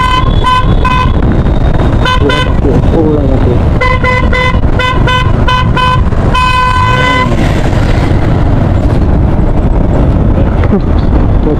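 Vehicle horns honk in road traffic, heard from a moving Yamaha MT-15 motorcycle. Several loud bursts of repeated toots, some short and some held, cut through constant heavy wind roar.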